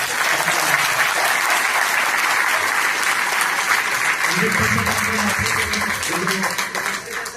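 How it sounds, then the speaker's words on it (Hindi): Sustained applause from a large audience at an RCM gathering, loud and dense throughout, with cheering voices rising over the clapping in the second half. "एक बार आपके लिए तालियां बजाइए"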